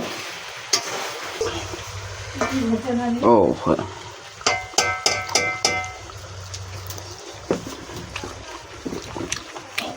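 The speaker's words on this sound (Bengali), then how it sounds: "এখানে মাংস কষা চলছে" Mutton being kosha stir-fried in a pan with homemade spices, sizzling steadily while a utensil scrapes and stirs in bursts, close and fairly loud, with clattering taps against the pan.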